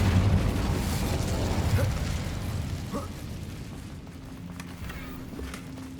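A fiery Incendio spell from the Hogwarts Legacy video game bursts with a rumbling blast up front, then the whooshing fire and game ambience fade gradually over the following seconds.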